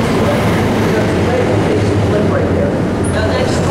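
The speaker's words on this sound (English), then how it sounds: "Can you hear the clickety-clack of the elevated train behind us?" An elevated train rumbles past on nearby tracks in Chicago with a steady, loud roar and clickety-clack rattle throughout, and a voice is faintly heard over the noise.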